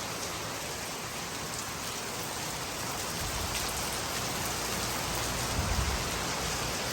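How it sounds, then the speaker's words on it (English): Heavy monsoon rain pours outdoors beside a covered porch at a hardwood flooring job, a dense, steady hiss that fills the whole stretch and swells slightly toward the end. "It's coming a monsoon out here."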